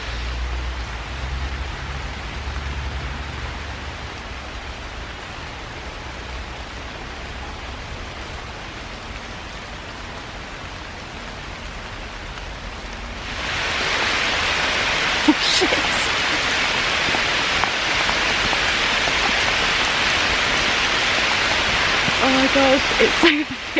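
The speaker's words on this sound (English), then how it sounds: "we're just going to wait it out for a little bit, see how long it rains for" A sudden downpour begins partway through, a steady broadband hiss of heavy rain arriving abruptly after quieter ambient noise and holding loud and close until the end, with a few faint knocks.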